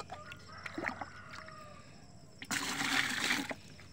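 Water from a bucket splashes onto Malabar spinach leaves in a vegetable garden at harvest. After quieter rustling, a single fairly loud, close pour lasts about a second and then stops.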